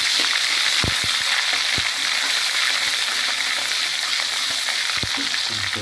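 Garlic sautés in hot oil in a pan for a vegetable and chicken spring roll filling, a steady close sizzle and crackle with occasional soft clinks of stirring, no voices.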